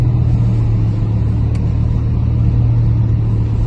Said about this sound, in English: The sound of a bull under the bonnet.